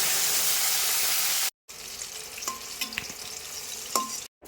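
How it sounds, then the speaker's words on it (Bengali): Bata fish heads fry in hot oil in a pan, giving a steady broadband sizzle with a few brief clinks and stirring sounds, briefly cut by two silent gaps, with no talking. "এবারে মাছের মাথাগুলো ভেজে নিচ্ছি।"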